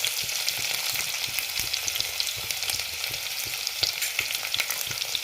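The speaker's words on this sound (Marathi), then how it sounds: "ऑइल गरम झाल्यावर त्यामध्ये आपण लसूण टाकलेलं आहे" Garlic fries in hot oil in a pan for an octopus curry, a dense, even sizzle with soft stirring scrapes, close and steady throughout.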